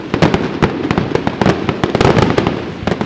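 Recorded fireworks played back for dog desensitization, a dense, continuous crackle of rapid firecracker-like pops and bangs at steady loudness with no talking.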